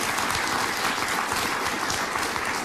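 A studio audience applauds steadily and fairly loudly throughout, a dense wash of clapping with no gaps and no one talking over it.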